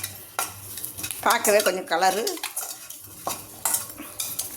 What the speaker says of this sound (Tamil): இதை கொஞ்சம் பொறுமையாக கிண்டி விடுவோமே